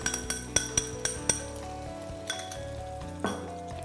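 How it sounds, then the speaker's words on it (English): Meat for Bolognese fries in a pan with tomato paste and beef stock, a steady sizzle broken by several sharp utensil clinks against the pan, quick at first and then sparser. "you can add the tomato paste, and you can thin this out with a bit of the beef stock"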